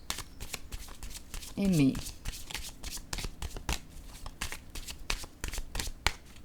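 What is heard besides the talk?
playing cards being shuffled and drawn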